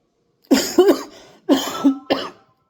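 Three harsh, close coughs in quick succession, the first two paired together, then a short pause before a third cough.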